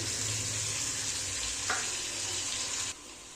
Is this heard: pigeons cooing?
no